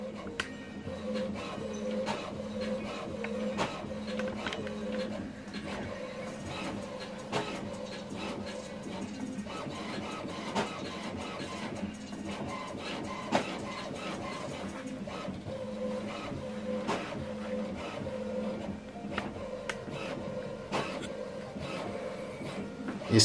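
An HP Envy Photo 7134 inkjet printer calibrating runs a long mechanical cycle of steady motor whirring punctuated by repeated clicks and clunks of the print carriage, moderately loud and close, with no talking.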